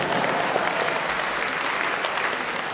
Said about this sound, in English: you can clap, I will clap with you.